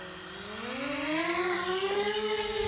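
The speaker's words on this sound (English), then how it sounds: "then I'ma send up a drone." Small drone lifting off and flying, a rising, buzzing propeller whine whose pitch climbs steadily as it spins up, close and fairly loud with no talking.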